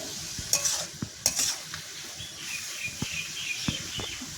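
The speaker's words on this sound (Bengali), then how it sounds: "দিয়ে ভালো করে ভেজে নেবো" Green chilies frying in a pan while making pointed gourd mash, a steady sizzle with repeated spatula knocks and stirring clatter, plus a couple of brief high chirps early on.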